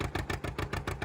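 A John Deere horizontal two-cylinder tractor engine pops in a steady, uneven two-beat rhythm, loud and close, with strong low thumps repeating about every quarter second.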